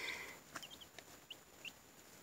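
Baby chicks on a small homestead give short, high cheeps, several scattered peeps spaced apart, faint and close, with no talk.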